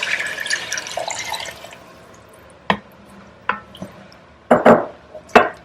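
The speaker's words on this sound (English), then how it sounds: "The first thing I'm going to add is water." Water poured into a pot of caramelized mushrooms over low heat: an early stretch of bright, splashy trickling, then a few sharp separate splashes and drips close by, with no talk.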